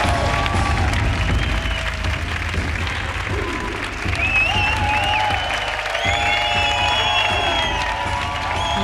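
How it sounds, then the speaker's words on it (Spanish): A television studio audience applauds and cheers for a champion artistic trampolinist, a dense continuous wash of clapping with scattered whoops and shouts, loud and sustained throughout. "Un aplauso para Nacho Delgado"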